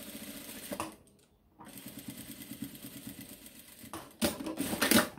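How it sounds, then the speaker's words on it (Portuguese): A sewing machine stitches a seam along the top of a fabric pot holder, running in rapid, close mechanical bursts with a short pause, then resuming louder toward the end. "E vamos passar uma costurinha aqui em cima"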